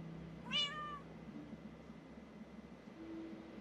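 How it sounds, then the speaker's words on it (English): Cat in the video game Minecraft giving one short, clear meow that rises and falls quickly, alone over faint steady background hum. "It's my cat."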